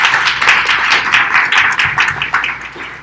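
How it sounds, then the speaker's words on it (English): A modest audience at a Customer Data Science meetup in Los Angeles gives close, fairly loud clapping after a talk. The hand claps are crisp and uneven and continue steadily for a few seconds. "Let's give another warm round of applause for Neal and Ahmad for talking today."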